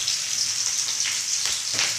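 Rice with peas fries in a hot pan in a village kitchen, giving a steady, dense sizzle like light rain. A few stirring swishes rise and fade through it, close and continuous.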